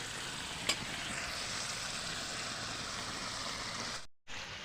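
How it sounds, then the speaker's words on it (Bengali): Duck meat cooks with tomato and spices in a pan, giving a steady, fairly quiet frying sizzle with one brief clink and a short gap near the end. "এবারে মাংসের সাথে আর মশলার সাথে টমেটোটাকেও গলিয়ে নিচ্ছি"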